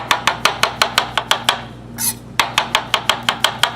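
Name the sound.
knife slicing mushrooms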